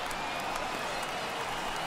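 A stadium crowd in the video game MLB The Show 21 roars and cheers continuously, a dense, even wash of many voices with scattered claps, fairly loud and steady throughout.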